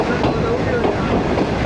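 A 5UP Greenline passenger train running from Rohri to Lahore rolls through Khanpur Junction, heard from inside the economy-class coach as a loud, continuous rumble and rattle of wheels on track.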